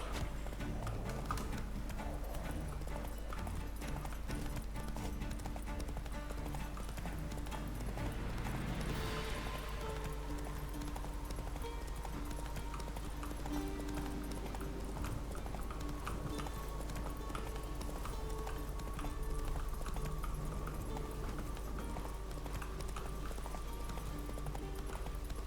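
Roach, the horse in The Witcher 3, galloping with steady rhythmic clip-clop hoofbeats on the ground, continuous and fairly soft under game ambience, with a brief swell midway.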